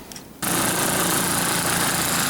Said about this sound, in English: We find these engines run smoother, cleaner, and with slightly more power